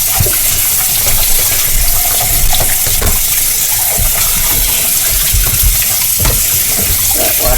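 A coffee cup is washed under a running kitchen tap, a loud, close, continuous rush of water with splashes and clinks that shift as the cup moves through the stream.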